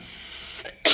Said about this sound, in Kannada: ಕೆಮ್ಮು ಬಂದಿದ ತಕ್ಷಣ ಕೆಮ್ಮು ಬಂದ್ಬಿಡ್ತು